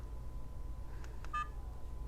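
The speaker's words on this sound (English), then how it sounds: "Beep sound, let's keep the beep sound on." A short electronic beep from a cheap Chortau dash cam's menu, a single quick tone in a quiet room with low background hum and a couple of faint clicks.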